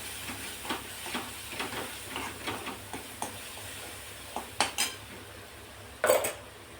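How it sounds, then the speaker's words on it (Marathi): Karadai greens sautéing in oil while a metal spatula taps and scrapes the pan in a steady rhythm, with louder clanks near the end over a light sizzle. "छान परतून घ्यायचं तेलावर"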